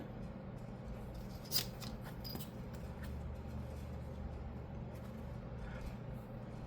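Knife blade drawn along a metal ruler slices through paper on a small cutting mat, giving a sharp scrape near 1.5 seconds and a fainter second stroke soon after, over a steady low background hum.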